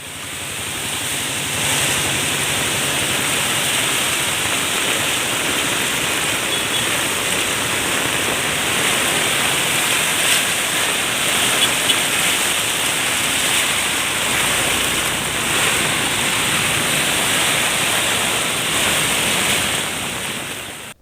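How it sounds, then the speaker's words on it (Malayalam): Heavy rain floods Thrissur city, a loud, continuous roar of pouring rain and rushing water that holds steady throughout with no voices. "തൃശൂരിനെ മുക്കി പെരുമഴ."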